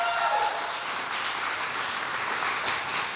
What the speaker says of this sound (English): Let's give them a round of applause as well for showing up.